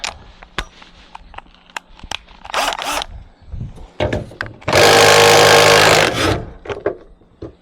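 A power drill with an attachment whirs in a sustained loud burst amid scattered knocks, clicks and scraping of tools on wood.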